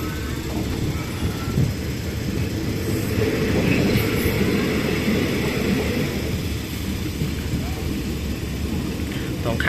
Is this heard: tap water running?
no